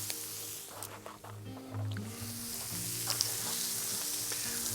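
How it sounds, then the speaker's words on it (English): Scallops sizzle in a hot pan where chorizo was cooking, a steady bright hiss that runs throughout and grows a little stronger toward the end, with low humming kitchen noise underneath. "So I'm now sizzling the scallops."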